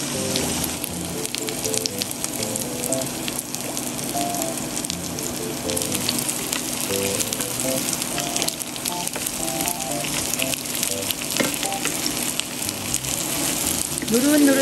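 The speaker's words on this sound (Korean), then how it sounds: "식용유하고 약간 들기름하고 좀 약간 섞어서 할 거거든요. 약간 중불에서 노릇노릇하게 구워주면 됩니다." Tofu pan-frying over medium heat in a mix of cooking oil and perilla oil gives a steady, dense sizzle and crackle that holds evenly throughout, with faint background tones beneath.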